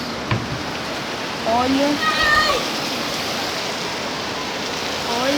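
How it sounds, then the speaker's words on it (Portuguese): Heavy rain pours down on a rainy day, a steady, dense hiss that fills the whole clip, with a voice briefly speaking over it and a few faint chirping tones. "Um dia de chuva."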